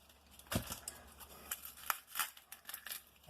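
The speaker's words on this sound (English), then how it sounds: "Just get your thumb up underneath the first shell of your onion and peel it back" Onion skin peeled back by hand, a handful of dry papery crackles and tearing rustles, close and fairly faint, in uneven bursts.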